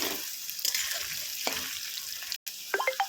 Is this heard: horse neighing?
no